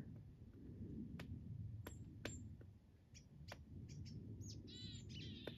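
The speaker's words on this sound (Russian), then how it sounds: "Ой, хоть какие-то птички, слышишь, защирикали." Small birds give sharp, brief chirps at irregular intervals, some a little distant, over a steady low background rumble, in a snowy forest in the Komi Republic, Russia.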